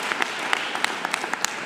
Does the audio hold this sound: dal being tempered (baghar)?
no